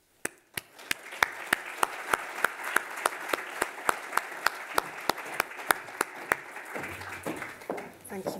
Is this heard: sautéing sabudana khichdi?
no